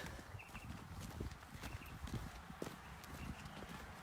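Horses' hooves clip-clop faintly and irregularly at an equestrian stable, with a soft noisy outdoor background and no speech.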